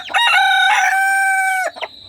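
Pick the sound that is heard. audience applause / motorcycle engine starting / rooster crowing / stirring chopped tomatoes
rooster crowing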